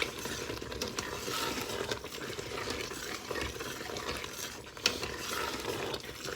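Beef bolognese with noodles being stirred in an Instant Pot, a steady close scraping and sloshing with a soft bubbling sizzle underneath and one sharper knock near the end.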